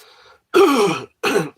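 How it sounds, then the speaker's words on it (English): A person coughs and clears their throat in two loud, harsh bursts close to the microphone, separated by a brief pause. "Sorry about to keep coughing."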